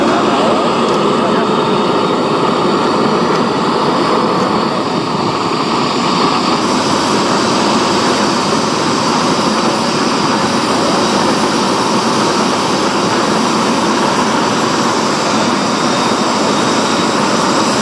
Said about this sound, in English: Propane is used for starting until they can get it going on the jet fuel.